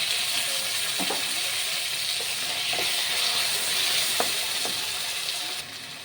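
Two large chopped tomatoes frying in a pan with garlic paste, giving a steady close sizzle and hiss with a few soft scraping stirs of a spoon against the pan, no talking.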